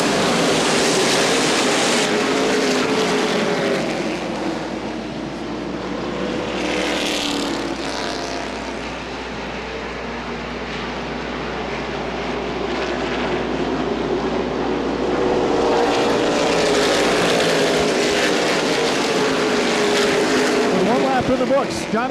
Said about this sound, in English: Johnny Van Dorn, green flag for 251 laps.